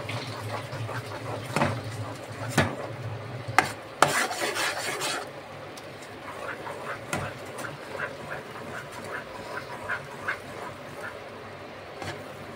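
A spoon scrapes and rubs through thick kada prasad halwa cooked with ghee in a kadai, a repeated rasping stir with a few sharper knocks, close and fairly soft with no talk over it.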